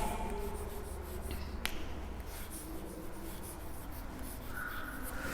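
A pen scratches out the spelling of a number during a maths lesson, making faint continuous strokes with one sharp tap partway through in a quiet room.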